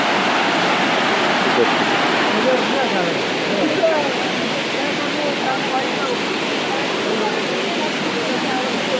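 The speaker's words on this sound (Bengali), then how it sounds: "এখন যেহেতু বর্ষার সর্বোচ্চ সময়, চূড়ান্ত সময় চলছে, সেজন্য প্রচণ্ডভাবে পানি বয়ে যাচ্ছে।" Elephant Falls in Meghalaya at peak monsoon, a loud, dense, unbroken roar of heavy water rushing, close and steady throughout, with a voice faintly present beneath it.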